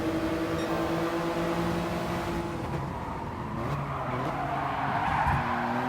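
Race cars in Gran Turismo Sport roar continuously, engines holding high revs while tires skid and squeal through a corner. The sound is loud and close throughout, with no talking.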